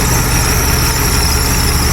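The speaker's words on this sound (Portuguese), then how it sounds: "é um motor V12 e tu só escuta literalmente a ventoinha trabalhando" Idling Mercedes SL600 with its V12 engine barely audible beneath a loud, continuous whoosh of the cooling fan, steady and close with no change in pitch.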